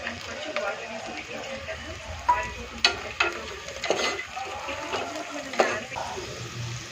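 Cashews frying with onions in a pan for prawn biryani, a soft sizzle under stirring, with several sharp scrapes and knocks of a spoon against the pan spaced through the clip.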